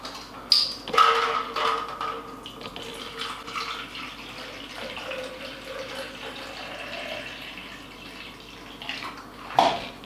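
Water poured from a tap or container into a plastic shaker bottle while mixing a pre-workout drink, a steady close splashing fill with a few louder clinks near the start and end, no talking.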